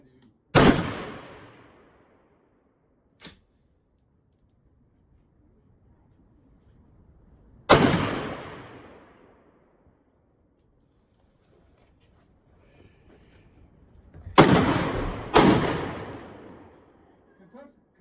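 Four loud, sharp AR rifle shots fired at a golf ball target on an outdoor range, each with a long fading echo, spaced irregularly with a pair close together near the end and a faint click between.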